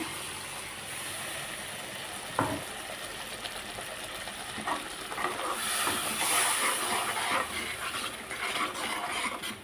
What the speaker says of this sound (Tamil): சட்னி நல்லா கொதிச்சுக்கிட்டு இருக்குது